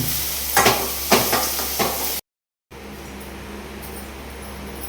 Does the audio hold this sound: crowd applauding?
no